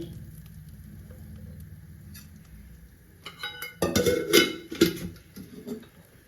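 Onions dropped into hot pure mustard oil in a wok, bursting into a loud crackling sizzle after a quieter stretch, with stirring and clinks of utensils against the pan.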